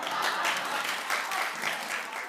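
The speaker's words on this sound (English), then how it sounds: "That was a clap, you all." A talk show studio audience breaks into a short burst of clapping, a steady, moderately loud patter of many hands lasting a couple of seconds.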